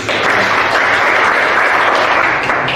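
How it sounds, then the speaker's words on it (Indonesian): A class of students applauding, a loud steady burst of dense clapping lasting a few seconds without a break. "Tepuk tangan dulu."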